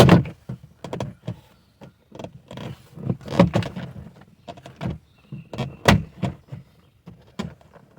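The rear door trim panel of a seventh-generation Nissan Maxima is pried off, giving a close series of sharp plastic clicks, pops and knocks in irregular bursts.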